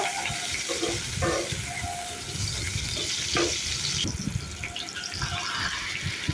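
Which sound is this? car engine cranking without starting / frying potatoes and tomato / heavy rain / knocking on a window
frying potatoes and tomato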